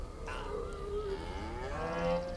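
A cartoonish cow moos once in the video game Death Inc, a single drawn-out low call that rises and wavers, heard alone over a steady background hum.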